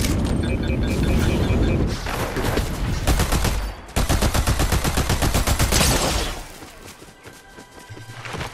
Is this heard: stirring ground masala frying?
no